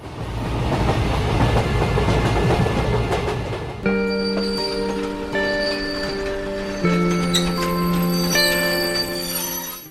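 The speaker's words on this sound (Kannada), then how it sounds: "ರೈಲು ಚಾಲಕ ರೈಲನ್ನು ನಿಲ್ಲಿಸಿದ" A train rolling along rails for a story sound effect, with steady broadband rumble and clatter giving way to sustained tonal wheel or brake squeal, loud and close throughout without any talk.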